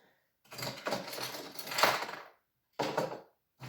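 Bursts of small toy coins clattering and clinking as they are gathered up, a long jumble of rattling followed by a short second scatter after a pause.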